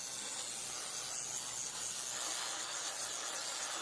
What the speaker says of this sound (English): You just spray AC.